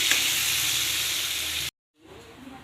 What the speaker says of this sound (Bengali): এবারে নুন হলুদ দিয়ে আলুগুলো ভেজে নিচ্ছি